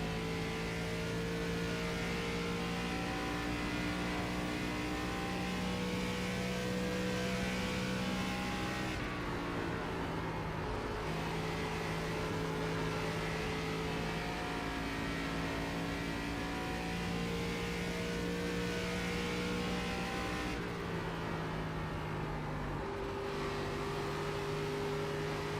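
A race car engine in the iRacing sim holds steady sustained drones punctuated by two sharp drops and climbs through gear changes, loud and continuous with no talking.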